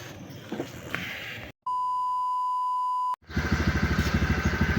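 A TVS Ntorq 125 scooter engine idling with a rough, pulsing chug, broken by a brief steady electronic tone before the engine rumble returns louder and more rhythmic.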